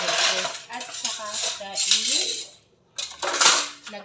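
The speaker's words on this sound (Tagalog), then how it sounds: "Ang proper talaga sa paghuhugas ng pinggan guys is una is banlawan, saka sabunan, at saka banlawan ulit ng 2 beses" Dishes, cutlery and glasses being washed, with plates, spoons and glasses clinking and clattering in a busy, close run of impacts, broken by a short quiet pause before more rattling; no speech.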